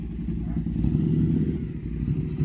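A motorcycle engine rumbles at close range, its low idle rising into revs, with a voice speaking over it.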